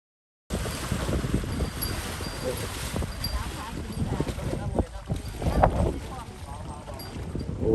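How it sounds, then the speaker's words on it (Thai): Wind rushes and buffets the microphone in uneven gusts, with some indistinct talking mixed into the noise. "เสียงลมสิ"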